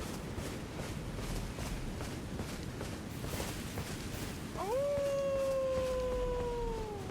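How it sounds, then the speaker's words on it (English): Blaidd, the wolf-like figure in Elden Ring, lets out a single long, sustained howl that rises sharply and then holds steady, heard over steady wind and footsteps. "He's howling"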